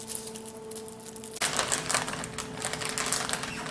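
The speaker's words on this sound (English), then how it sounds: "I'm going to cut them like this." A knife cuts brunch roll-ups on a board. After a quiet hum, a sudden start leads into a fast, steady run of close tapping knocks that carries on to the end.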